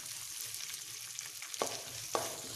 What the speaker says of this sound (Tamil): ஸோ இதெல்லாம் ஆட் பண்ணிட்டு நம்ம ரோஸ்ட் பண்ணிட்டு இப்போ எடுத்துக்கலாம்.